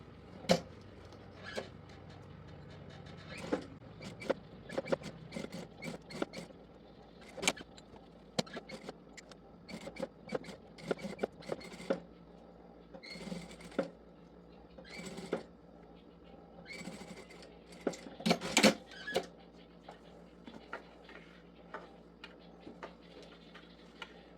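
Sewing machine stitching the lining of a zipper pouch, with bursts of fast rhythmic ticking in short and long runs separated by pauses, quiet and close.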